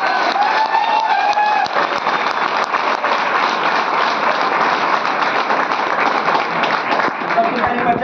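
Steady, dense applause from an audience at a talk by an NTC leader, a continuous wash of many hands clapping for several seconds with faint voices beneath.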